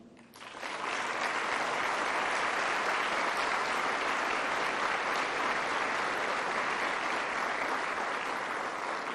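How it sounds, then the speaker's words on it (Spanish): A large audience at a forum on citizens and police bursts into applause, rising quickly to a sustained, even roar of clapping that continues throughout. "para quienes pido un fuerte aplauso"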